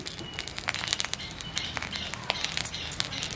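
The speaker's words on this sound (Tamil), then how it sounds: "கொஞ்சம் கடுகு போட போகிறோம். கடுகு வடிக்கட்டும்." Mustard seeds crackle and pop in hot oil for a Jaffna-style crab curry, a faint scatter of quick sharp snaps and sizzles close by, with no talk over them.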